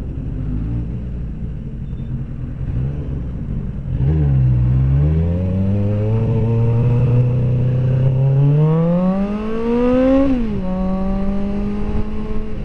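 An older motorcycle engine revs up from a steady idle, climbing in pitch through several seconds, dipping briefly, then rising again before dropping back, loud and close with no talking.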